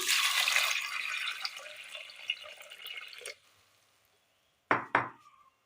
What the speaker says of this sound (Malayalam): വേകാൻ ആവശ്യമായ വെള്ളം ഒഴിച്ചു കൊടുക്കാം.